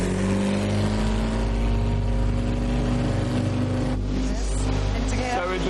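A Mini's engine turns over and settles into a loud, steady mechanical drone at close range, a rough continuous roar at a junkyard car-curling contest, with a voice talking over it.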